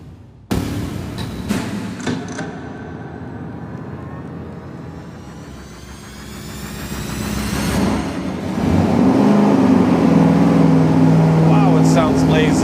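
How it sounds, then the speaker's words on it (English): A 440 V8 on an engine dyno with its camshaft advanced 10 degrees runs through a pull. A sharp start settles to a steady drone, then the engine swells to a loud, sustained roar near the end. "what we're gonna do now is our first pull with the camshaft advanced even more"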